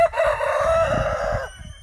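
A rooster at a chicken rescue sanctuary crows once, loud and close: a single sustained cock-a-doodle-doo lasting about a second and a half, then it breaks off.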